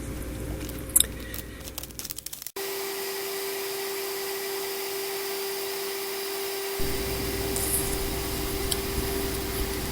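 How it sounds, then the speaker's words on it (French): An upright vacuum cleaner forming part of a ballast suction machine runs with a steady whirring drone, after a brief burst of clattering and a sharp cut, then continues alone at a constant level. "Le premier, bien entendu, l'aspirateur, pour nous un aspirateur vertical que nous utilisons depuis des années."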